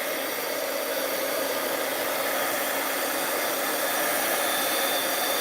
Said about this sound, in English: So we're just going to heat them until they're dry.